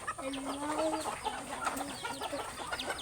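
A chicken clucks in short, uneven bursts close by, the calls fairly quiet over a light background.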